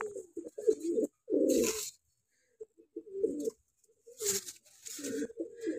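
Pigeons kept by a fancier coo in several short, low, throaty bursts separated by pauses, with a few brief flutter or scraping noises between calls, close by.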